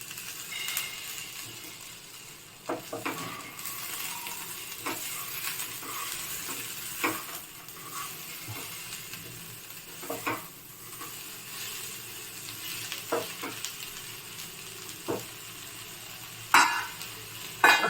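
Kohlrabi chutney mixture sautés in a pan with a soft, steady sizzle, broken by intermittent stirring scrapes and light clinks of the utensil, with no one talking.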